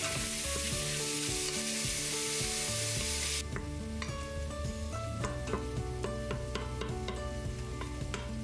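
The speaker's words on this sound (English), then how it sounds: "add some oil, add ground beef, and give it a stir for about 2 to 3 minutes until the pink is almost gone" Ground beef sautéing in hot oil in an Instant Pot, a bright sizzle with repeated spoon scrapes and clinks as it is stirred, close and clear, no voices.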